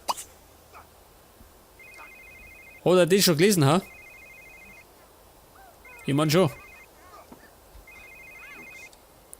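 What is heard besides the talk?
telephone ringing in video game The Sims 3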